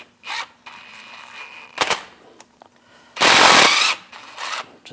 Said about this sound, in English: I'm just going to use some pliers on the seal. It's stuck on there. So we'll just try to loosen this up.